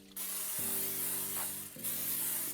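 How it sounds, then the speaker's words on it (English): Cooking spray hisses from an aerosol can onto a bundt pan in a kitchen, a close, steady spray lasting about two seconds with a brief dip partway through. "I'm gonna lightly spray the bundt pan."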